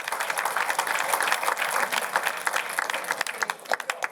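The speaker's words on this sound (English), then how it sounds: "how about a round of applause for our panel?" Audience at an academic conference panel session applauds steadily, a dense sustained round of clapping that tapers off toward the end, with no voices over it.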